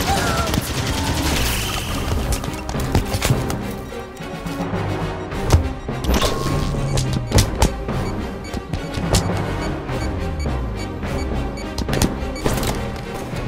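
Dense gunfire, explosions and crashing from a Halo 5 battle on the Kraken, where a generator is destroyed, booming loudly and continuously with sharp bursts throughout.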